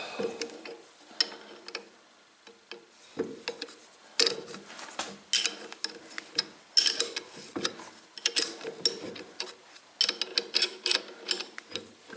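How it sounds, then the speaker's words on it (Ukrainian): A 17 mm wrench tightening bolts while centring a Minsk motorcycle, giving irregular metallic ratcheting clicks and clanks in uneven bursts, moderately close with no voices. "Ключ на 17 і погнали стягувати."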